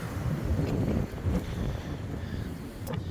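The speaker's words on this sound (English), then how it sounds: "it's now starting to get really, really windy again" Strong gusts of wind from Storm Isha buffet the microphone at an allotment, a dense, rumbling roar rising and falling in close, loud bursts with no talk.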